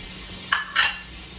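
A final knob of softened butter is swirled into a steak pan sauce, two quick scraping, sizzling swishes of the pan close by against a quiet kitchen background.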